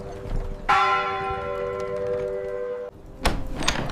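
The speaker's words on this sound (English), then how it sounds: "Then, slowly, the bells began to ring less often." A church bell in a history setting on the Black Death era strikes once with a loud, long-ringing tone that decays over two seconds, followed by a second strike starting near the end; no talk.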